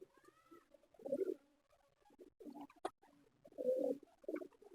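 Soft, low pigeon cooing in several throaty bursts on a rooftop, close and fairly quiet, with a faint flutter between calls.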